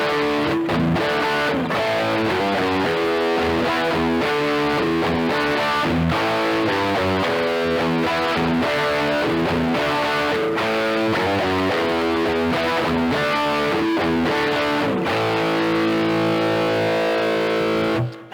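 An electric guitar played through an overdrive or distortion pedal rings out loud and sustained in a gritty, saturated tone, with chords and notes running continuously and no voices.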